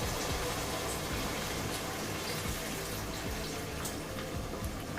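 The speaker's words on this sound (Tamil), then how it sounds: "இப்போ நம்ம குழம்புக்கு தேவையான அளவுக்கு தண்ணி சேர்த்துக்கலாம்" Steady water pouring into a simmering chicken curry pot, a continuous splashing wash with no talking.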